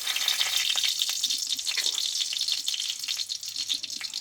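One dried red chilli and a bay leaf crackle in hot oil, giving a steady, close sizzle with scattered spitting pops and no one talking.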